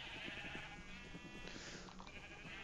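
Several sheep bleat in overlapping, wavering calls on a Minecraft server farm, fairly loud and close, with no talk over them.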